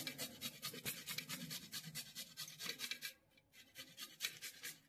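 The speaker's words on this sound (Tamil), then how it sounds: "இந்த மாதிரி நல்லா கிரேட் பண்ணி எடுத்துக்கலாம்." Food rubbed across a grater while preparing a baby's meal, a quiet, steady run of rhythmic rasping strokes up close, briefly pausing partway through, with no voices.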